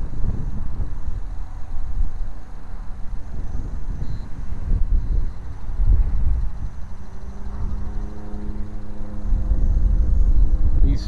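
Low-flying airplanes pass overhead in a windy outdoor spot, giving a steady, broad engine rumble mixed with gusty wind buffeting the microphone and a faint rising drone that swells toward the end.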